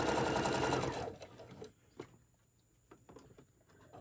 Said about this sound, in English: then I'm going to take it to the sewing machine